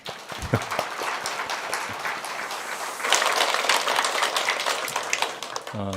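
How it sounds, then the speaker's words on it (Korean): Church congregation applauding at a Sunday worship service, steady clapping that swells louder midway and carries on to the end, with no talk over it. "우리 그런 의미에서 하나님께 박수 한번 할까요?"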